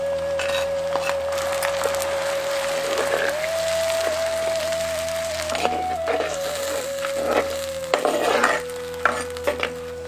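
Chopped shallots sautéed with salt in a pan, a steady close sizzle with scraping stirs and occasional utensil clinks, no talking.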